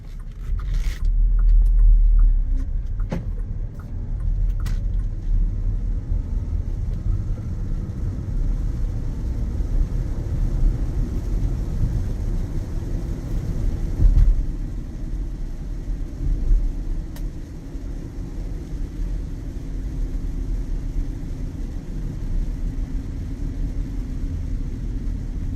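A Bentley Bentayga W12 with 66,251 miles cruises on a test drive, giving a steady low road-and-engine rumble that stays close and even throughout, with a brief bump around the middle.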